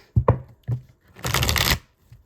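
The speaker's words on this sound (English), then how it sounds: "let's shuffle these up" A Mythos tarot deck with gilded edges being shuffled by hand: a couple of short card flicks and taps, then one brisk riffling burst of about half a second, close and clear, with no talking.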